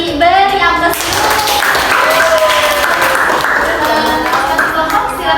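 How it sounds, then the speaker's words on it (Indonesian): A class applauds a student group in a history teaching lesson: loud, sustained clapping from many hands, with someone speaking over it at the start. "Kita beri aplaus dulu."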